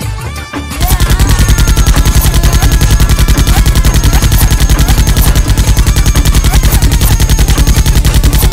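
Animated Diwali firecrackers burst in a fast, continuous rattle like machine-gun fire, loud and unbroken after a brief opening moment.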